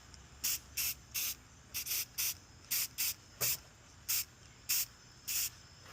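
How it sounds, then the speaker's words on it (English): Short hissing bursts of Dirty Down aging spray in black from an aerosol can onto a 3D-printed TPU part, about a dozen quick, close spritzes in an uneven rhythm with brief pauses between them. "we're using the Dirty Down Aging Spray Soap Black from Goblin's Hut"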